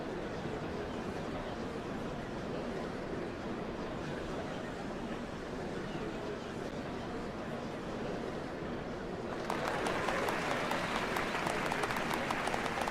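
A large crowd applauds steadily in Final Fantasy XIV, a dense wash of clapping that swells and brightens near the end.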